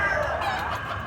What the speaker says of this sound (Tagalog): Guwapo kay manok si Idol Latom.